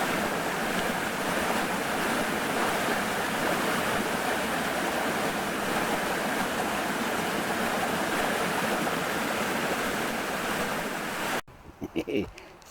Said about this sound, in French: Et comme j'entends de l'eau, certainement beaucoup plus bas, on va aller voir ce qui se passe.